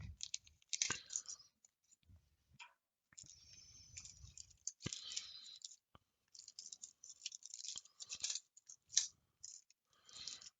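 DeAgostini Millennium Falcon model parts being unpacked, quiet crinkling plastic packaging, snipping and small clicks in scattered bursts with pauses, close and faint.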